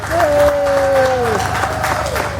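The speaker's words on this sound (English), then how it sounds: "can we have a big applause for Crawley Observer?" Applause from a crowd at the Crawley Mela 2013, a steady wash of clapping with a sustained voice or tone gliding over it, fairly loud and continuous.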